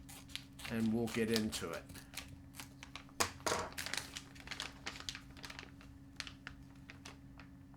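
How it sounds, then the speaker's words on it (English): Scissors snip open a Jack Links BBQ pork strips bag at its notches, giving a few close crinkles and cuts of plastic packaging, while a person talks briefly at the start. "I am just going to cut at the notches"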